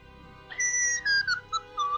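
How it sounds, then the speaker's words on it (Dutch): Melodic whistling in the horror video game Outlast 2, set in a crematorium, a series of clear sustained and gliding whistled notes with short pauses, loud and close, with no talk over it. "als je nu niet direct ophoudt met dat gefluit"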